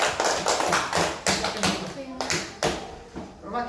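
Students in a science classroom applaud, a string of sharp, uneven claps and taps that come in bursts before fading toward the end, with children's voices mixed in.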